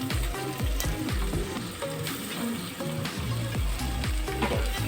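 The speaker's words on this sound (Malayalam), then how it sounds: "നമുക്ക് ഇനി ചെമ്മീൻ ഇടാം." One kilo of shrimp goes into frying masala in a pan, giving a steady sizzle with repeated clinks and scrapes of stirring, fairly quiet and close, with no voices.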